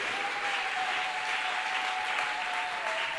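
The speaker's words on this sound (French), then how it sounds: "Acclamons tous Jésus-Christ." A church congregation at a Sunday service applauds in steady, dense clapping throughout, with a faint sustained tone running beneath the applause.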